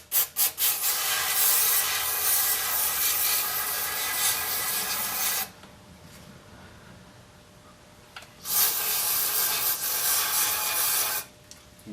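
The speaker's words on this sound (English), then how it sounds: "I'm gonna rinse it out and see what we can get out of there." Cleaner sprayed to rinse out the throttle body of a 2003 Cadillac CTS, heard as two long, loud hissing bursts separated by a quieter pause, close to the listener with no voices.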